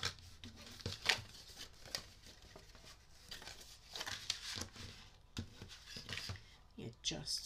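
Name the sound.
paper folded along score lines for envelope treat box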